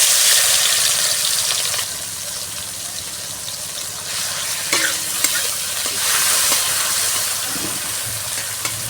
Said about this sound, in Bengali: দেখো তেলটা গরম হয়ে গেছে, এবার চিংড়ি মাছগুলো দিয়ে দেবো।